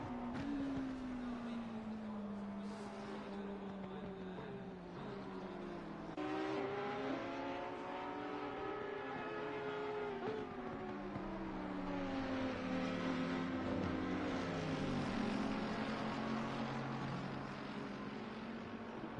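Race cars lap Paul Ricard in a racing game, several engines whining and shifting through gears as they pass, a continuous layered drone at moderate distance with faint commentary beneath.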